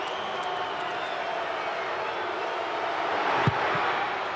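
A home crowd at an NRL rugby league match between the Canberra Raiders and Parramatta Eels keeps up a steady, distant murmur and roar throughout, with one brief thud near the end.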